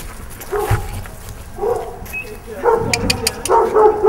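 Dogs still inside a building, rescued during an animal-protection action against hunting, give several close barks and whimpers in short bursts, with low movement noise between them.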